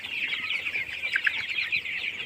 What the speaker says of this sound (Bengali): এই মুরগিগুলো বিক্রি করতেছি শপিংভাবে